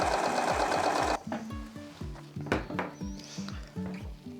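Sewing machine running a lettuce hem, a fast steady mechanical chatter for the first second followed by slower rhythmic needle thumps and whirring.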